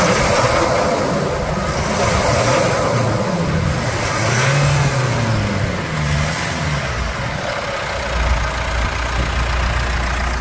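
A Mitsubishi Triton's 2.4 engine, freshly serviced with an oil change, revs loudly and steadily, rising and falling through throttle blips before settling toward idle, with no talking.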